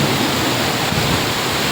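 Steady rain pours down outdoors as an unbroken, loud, dense hiss that fills the whole moment, with no distinct drops or voices standing out.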